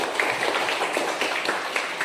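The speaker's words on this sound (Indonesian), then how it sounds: "Tepuk tangan buat kedua" A classroom group claps for two students, a dense patter of hands carrying steadily through the whole short stretch at moderate loudness with no voices over it.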